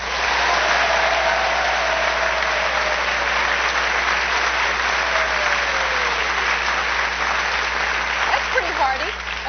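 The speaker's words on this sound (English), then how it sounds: "those of you who want Paul to ask a question, clap your hands right now" A studio audience at a 2001 late-night talk show claps hands in loud, dense, sustained applause lasting the whole stretch, with a faint tone sliding underneath and some noise near the end.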